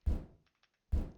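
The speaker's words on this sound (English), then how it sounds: "I just have my washer impact without any effects." Two separate heavy, dull impacts of a washer, raw and unprocessed, each a loud thud with a short decaying tail, spaced about a second apart with near silence between.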